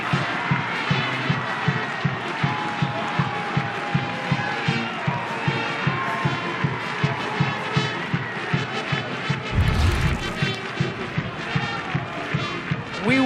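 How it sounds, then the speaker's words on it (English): A homecoming crowd cheers loudly at a men's lacrosse game at Homewood, Johns Hopkins against Penn State, a steady roar with rhythmic thumps and a brief low rumble partway through, under an excited commentator's voice. "Listen to this homecoming crowd here at Homewood"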